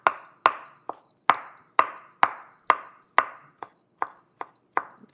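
A knife slices food on a cutting board in about a dozen crisp, evenly spaced chops, close and clear with nothing else heard.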